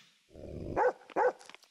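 A dog in the video game Yomawari growls low, then gives two sharp, close barks in quick succession, followed by a short whimpering trail.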